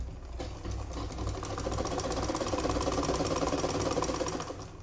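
A sewing machine hums and clatters steadily for nearly five seconds as it stitches a sleeveless gown's side seam, with a fast, even needle rhythm close by and no pauses.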